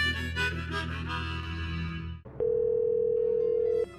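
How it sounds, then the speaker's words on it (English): A telephone line tone cuts in after a stretch of broadcast music, holding as one steady electronic beep for over a second before stopping, clear and close with no voices. "The phone lines are now closed."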